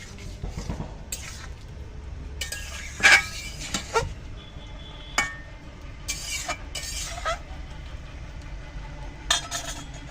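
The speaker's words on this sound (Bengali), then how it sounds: "ঢেকে দিলাম, ঢাকনা তুলে নিলাম।" Metal pot lid set on and lifted off a pot of vegetarian shukto cooking on the stove, giving a few sharp clinks and clanks spread across a soft cooking hiss, close and moderately loud.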